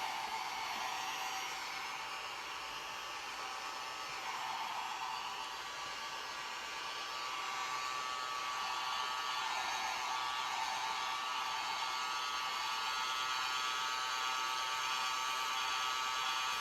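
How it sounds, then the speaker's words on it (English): A hair dryer blows steadily at close range to dry paint on a painted model figure, a continuous loud whooshing hum with no pauses and no talking. "I'm going to dry it up with the hair dryer."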